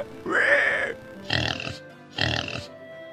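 A pig grunts three times, rough and throaty, each grunt separated by a short pause, at moderate volume nearby.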